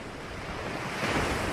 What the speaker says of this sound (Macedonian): Силните бранови ја скршија ледената покривка на океанот.